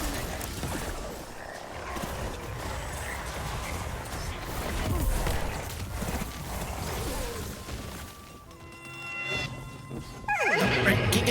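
A video game horse lets out a whinny near the end, a quick falling cry, following a stretch of busy game sound effects and a player talking quietly underneath.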